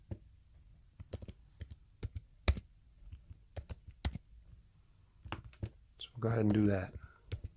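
Someone types a password on a computer keyboard while setting up a long-range wireless bridge, producing sharp, irregular key clicks close by in a quiet room, and a voice speaks briefly near the end.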